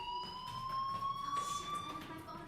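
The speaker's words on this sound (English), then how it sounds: "do you hear that fire alarm? That means you should be outside." An electronic fire alarm sounds in the Life is Strange video game, a steady high tone slowly rising in pitch, moderately loud over faint background murmur.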